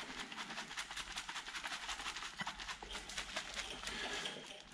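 Steady metallic rattling and clattering of a Volvo 740 metal oil trap shaken with degreaser inside, like loose parts in a metal container, continuous and fairly close for several seconds.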